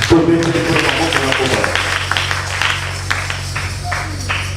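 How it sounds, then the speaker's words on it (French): Applause from a church congregation during a worship service, a dense burst of clapping that fills the room and carries on steadily for several seconds over a low sustained musical tone. "On applaudit les Seigneurs"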